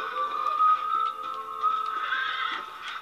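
A horse in Red Dead Redemption gives a long, shrill whinny that rises and wavers for several seconds, loud and alone over faint game background sounds.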